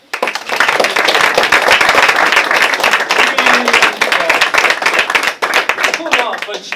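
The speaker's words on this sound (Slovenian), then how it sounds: "En lep aplavz za... Odr!" An audience at an improv theatre show in Zasip bursts into loud, sustained applause and clapping that fills the whole stretch, with a brief dip near the end before it continues.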